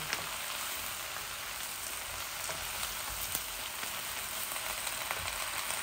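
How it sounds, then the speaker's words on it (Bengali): Dried fish (shutki) fries in a pan with a continuous, even, crackling sizzle like light rain. Occasional tiny pops stand out close by, and no one talks. "এই যে আমার শুটকিগুলা ভাজা হয়ে গেছে।"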